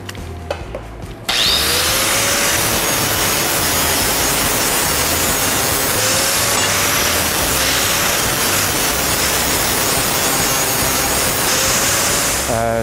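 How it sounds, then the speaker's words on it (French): An angle grinder removing sharp edges from cut metal pieces, starting after a brief quiet moment and then running loud and continuous with a harsh abrasive roar and faint rising whines as the disc bites the metal. "je viens prendre la meule, puis je vais enlever tous les morceaux coupants"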